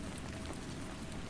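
Steady rain falls on a dark night, a soft, even wash of dense droplets with no breaks or nearby voices.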